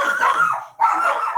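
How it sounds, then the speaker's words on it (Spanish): Several pet dogs in a home bark and yip close and loud in two quick bursts with a brief gap between them, excited and a little whiny. "perdón por mis perros"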